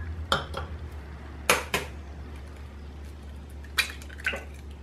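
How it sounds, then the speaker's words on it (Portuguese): Two eggs are cracked into a measuring cup in a home kitchen, giving a few sharp taps and knocks against the cup with faint wet sounds between them over a low steady hum. "Já vou aproveitar e quebrar aqui dentro dessa medida."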